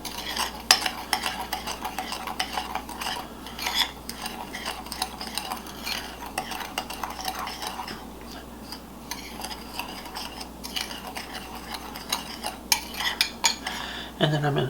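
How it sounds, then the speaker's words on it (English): Spoon stirring cinnamon and sugar together in a bowl, a continuous scraping and clinking of utensil against the dish, close and fairly quiet, with no talk. "Then I'm going to take the cinnamon and the sugar and combine them in a bowl."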